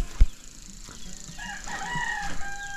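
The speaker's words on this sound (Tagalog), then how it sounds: "Ayan na yung manok da." A rooster crows outdoors on a farm, one drawn-out cock-a-doodle-doo rising midway and trailing off, preceded by a sharp knock and faint rustling in the background.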